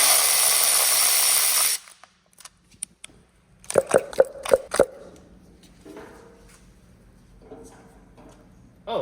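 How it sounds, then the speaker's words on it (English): A power tool hisses loudly on a drift car engine for nearly two seconds, then stops, followed by a run of sharp metallic clicks and rattles as captured coil pack bolts are loosened. Faint voices are heard underneath. "We're just doing a coil pack removal ASMR"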